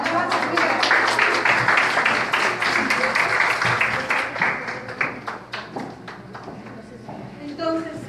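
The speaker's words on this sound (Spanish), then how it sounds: "Un aplauso por las nuevas amigas." Audience applause at a talk or workshop, dense clapping from a room full of people that swells early and gradually thins out toward the end, with scattered claps lingering.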